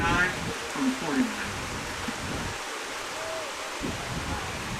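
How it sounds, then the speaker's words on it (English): Steady rain falls across a high school football field during a game between Archbishop Moeller and Bishop Hartley, a broad continuous hiss with occasional crowd or voice murmurs underneath. "As the rain has picked up once again."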